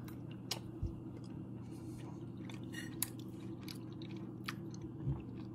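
Chewing a bite of Indiana old-fashioned sugar cream pie, soft close-up mastication with faint squishy, moist sounds and a few small ticks over quiet room tone, with no talking.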